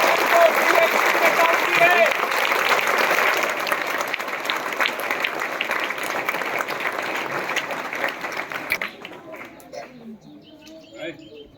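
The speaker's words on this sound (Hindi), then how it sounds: "इसलिए एक बार जोरदार तालियों का स्वागत करेंगे।" Students at a school result announcement break into loud, dense clapping that gradually thins and fades over several seconds, with birds chirping faintly in the background once it dies down.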